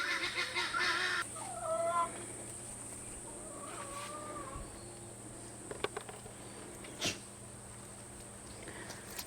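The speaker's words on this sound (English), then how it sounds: "You can hear that very, very noisy guinea fowl in the background." A noisy guinea fowl calls in a burst of harsh, repeated cackling early on, somewhat in the background, while crickets buzz steadily under it and a few faint bird calls follow.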